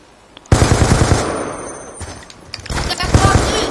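Automatic gunfire in Call of Duty Black Ops II, loud rapid bursts of machine-gun shots that start abruptly and repeat in several volleys throughout, with game noise underneath.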